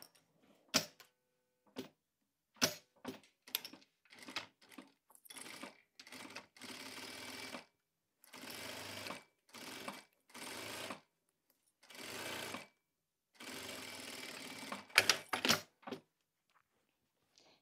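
Sewing machine stitching a zipper onto a structured tote bag, a series of short and longer bursts of rapid mechanical needle chatter separated by quiet pauses, close and clear.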